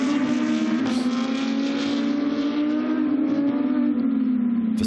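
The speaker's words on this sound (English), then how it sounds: "As the car gets lighter on fuel, it's getting quicker all the time." A GT2 race car accelerates hard at the Paul Ricard circuit, its engine note loud and steady with a strong, slowly shifting pitch that holds throughout.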